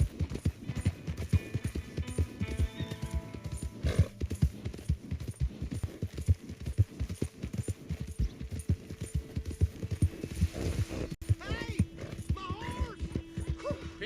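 In the video game Red Dead Redemption 2, a horse's hooves clip-clop in a steady walking rhythm throughout, close and prominent, with a brief whinny near the end.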